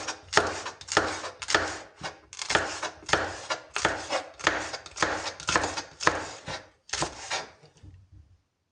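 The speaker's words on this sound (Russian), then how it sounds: "Сейчас режу горький перец." Knife cutting hot chili pepper into thin strips on a board in a home kitchen, a quick run of close, crisp rhythmic chops in short bursts, then slowing to a stop.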